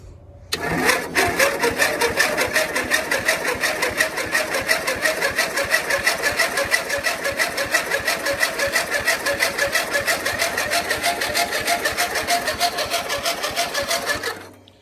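Small engine on an Ariens YT12 riding mower starts and runs loud and close, a fast steady buzzing chatter that holds evenly for the whole stretch before cutting off at the end.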